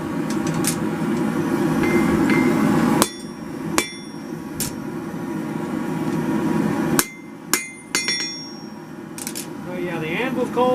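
Steel is hand-forged on a cold anvil in a chilly New Year's Day forge, with sharp, ringing hammer strikes over a steady background roar. The blows come in irregular bursts, and a voice is heard near the start.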